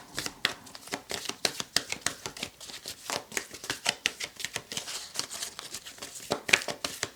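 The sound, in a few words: shuffling and drawing tarot cards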